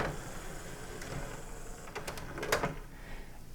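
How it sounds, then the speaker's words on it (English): A five-disc CD player closes and runs its disc check, giving a low mechanical whirr followed by a quick series of sharp clicks and clacks from the tray mechanism, near and moderately quiet, with no voices. "But when I close this machine, it checks if disk 4 and 5 have a disk."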